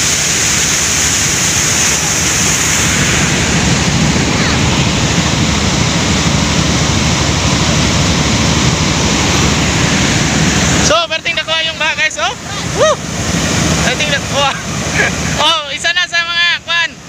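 Dirty floodwater rushes loudly and steadily in a broad roar for about eleven seconds, then the wash continues under excited talking and a nearby motorbike engine.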